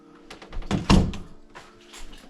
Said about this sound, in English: Adjusted the door.